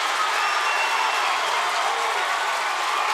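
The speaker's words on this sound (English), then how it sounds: "this Osceola crowd certainly knows how to bring the noise" A high school boys basketball crowd at a sectional championship game cheers and applauds in a steady, loud, unbroken roar of noise and clapping that fills the whole gym.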